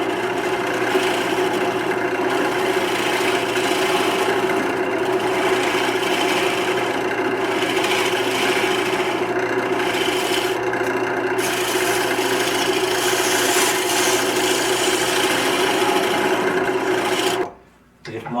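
A wood lathe spins a lacewood bowl while a tool cuts away the leftover nub, a steady rasping drone with a constant motor hum, loud and continuous, before the sound cuts off abruptly at the end.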